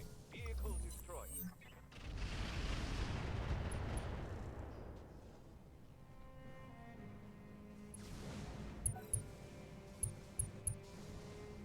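Vehicle destroyed in a Battletech Roguetech battle: a heavy explosive burst and rumbling blast that swells then fades over several seconds, followed by faint mechanical clanks and a few sharp metallic ticks.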